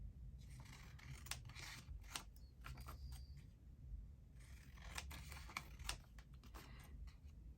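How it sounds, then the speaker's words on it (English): Scissors snip the corners of paper pages for an antique-style document journal in a string of short, close, crisp cuts, some quick clusters and some single snips, over a quiet background. "I'm going to snip the corners just very slightly."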